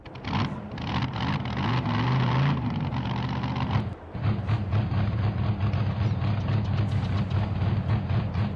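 A monster truck engine in the video game Farming Simulator 22 starts up and settles into a deep, steady idle, with a brief drop partway through before the low rumble resumes, loud and close.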